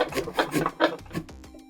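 Rhythmic rasping saw strokes cutting into a pumpkin, soft and fibrous, about four steady back-and-forth pulls, close up, then slowing to a few lighter scrapes.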